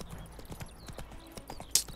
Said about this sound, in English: Bro, I cannot steer with this horse.